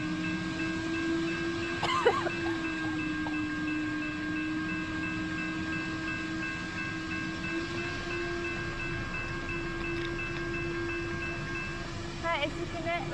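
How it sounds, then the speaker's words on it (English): A train or rail vehicle near a railway line, its steady low rumble running throughout, with a brief horn-like tonal burst around two seconds in and another near the end. "Wait, is that train coming?"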